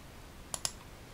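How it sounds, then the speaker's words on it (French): Two crisp, close computer mouse clicks in quick succession while working in Illustrator, against a quiet background. "je clique ici pour inverser la couleur"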